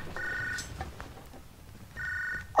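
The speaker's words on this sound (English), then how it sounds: "What is that ringing sound?" A telephone rings in the video game Hard Time 3, giving two clear electronic ring bursts separated by a short gap, at moderate loudness over quiet background.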